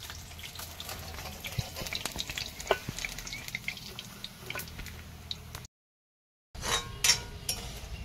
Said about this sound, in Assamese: সয়াবিনখিনি অকণমান ভাজি লৈছিলোঁ তেলত